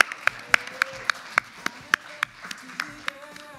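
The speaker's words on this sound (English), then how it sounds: "give him a round of applause" Applause at a Mr. UVU 2020 pageant show for contestant Cooper Fulmer, heard as a steady run of crisp, evenly spaced handclaps close by, with faint voices underneath.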